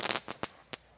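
A firework rocket goes off outdoors as a quick run of sharp crackling bursts, a dense cluster at first and then three spaced single pops, each bright and snappy.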